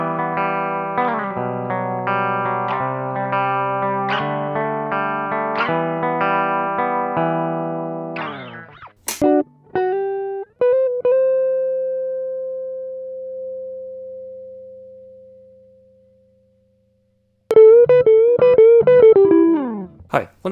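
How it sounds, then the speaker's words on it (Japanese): Electric guitar played through a VOX Valvenergy Silk Drive effects pedal: strummed overdriven chords, a long sustained single note that fades away, then a burst of fresh chords, clear and upfront. "シルクドライブの音っていうのがですね、より一層強くですね、強調されて出てきてるかなと思います。"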